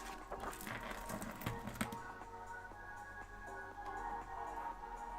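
A sewing machine stitching thread through journal pages, a rapid mechanical clatter and whir that stays close and fairly steady with a few louder clicks early on, no talk.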